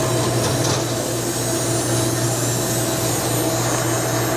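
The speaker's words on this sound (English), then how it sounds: "All right, we'll turn the dust collector on. Fire up the bandsaw." A workshop dust collector and bandsaw running together, a loud, steady, unbroken roar with a constant low hum, close by and without talk.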